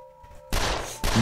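Gunfire in the video game 13 Days in Hell, loud dense bursts of shots that erupt abruptly halfway through and burst again near the end, after a quieter stretch with a faint tone.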